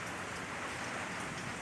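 Heavy storm rain pours steadily outside a house in the Philippines, a dense, even hiss of drops on surfaces with no voices.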